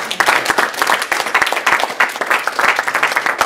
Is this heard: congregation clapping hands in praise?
yes